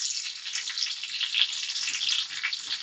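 Guanciale frying in a pool of its own oil in a pan for carbonara makes a steady, close, bright hiss with faint crackles, with no talking.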